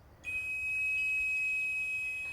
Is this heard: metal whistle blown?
yes